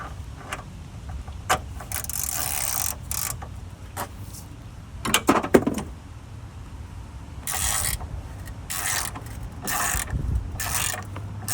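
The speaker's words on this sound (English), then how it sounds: "Now I need to loosen this 13." A ratchet wrench works a 13 mm bolt on the engine mount of a 2012-2015 Chevy Impala 3.6L, with clicking mechanical bursts and metallic knocks coming in short runs, close up, over faint background hum and no speech.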